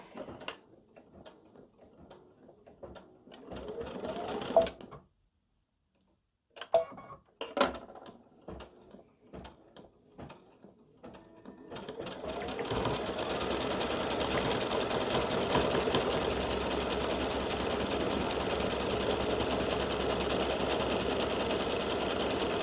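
A sewing machine stitches with gold thread in both the bobbin and the top while making clover earrings and a pendant. It starts with scattered ticks and short runs, then settles into a long, steady, close mechanical whir.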